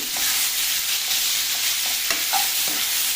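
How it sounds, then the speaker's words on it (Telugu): A spoon stirs bottle gourd curry with green chili in a pan, giving a steady sizzle and frying hiss with a few soft scraping clinks, close and alone. "బాగా కలియబెట్టండి"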